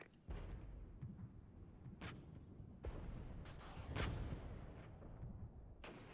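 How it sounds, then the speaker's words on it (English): An artillery strike in the Cold War real-time tactics game Regiments brings a string of sharp impacts and booms, about five or six spaced unevenly over a rumbling battlefield backdrop. "The artillery strike's pretty small."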